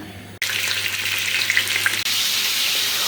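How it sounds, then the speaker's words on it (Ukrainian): Food sizzles and crackles steadily in a hot pan, loud and close, with a brief clatter near the start and again midway. "Зараз будемо смажити."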